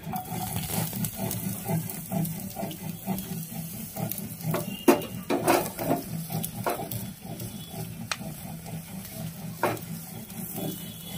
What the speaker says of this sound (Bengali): পেঁয়াজটাকে অল্প আছে একটু লাল লাল করে ভেজে নেব